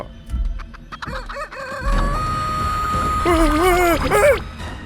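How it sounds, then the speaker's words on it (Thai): A chicken clucks and a rooster crows close by, with sharp clucks at first, then a long drawn crow rising and holding, followed by a second wavering crow, over faint background noise. "เฮ้ยไก่ร้องนี้ด้วยเหรอ"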